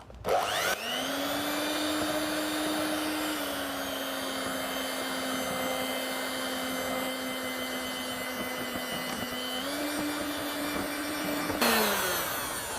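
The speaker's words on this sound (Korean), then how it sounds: "휘핑기로 반죽해줍니다. 30초 정도 돌려주시면 됩니다." An electric whisk runs continuously for about eleven seconds, mixing sweet potato cake batter, a steady high motor whine with a faint pitch shift midway, starting and stopping abruptly.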